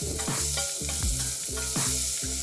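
Mushrooms seasoned with salt and pepper frying in a pan, a constant close sizzle with a regular rhythm of stirring scrapes repeating about every third of a second.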